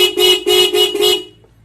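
A Roots Vibromini horn fitted to a Suzuki Access 125 scooter gives four quick, loud, car-like honks in a tight burst, then cuts off into quiet.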